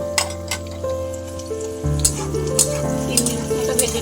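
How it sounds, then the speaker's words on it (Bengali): Sliced onion and capsicum fry in a kadai for chicken, a steady low sizzle with occasional stirring clinks and scrapes, close and alone with no talk. "দিয়ে আমি এই 2-3 মিনিট মতো ভেজে নেবো।"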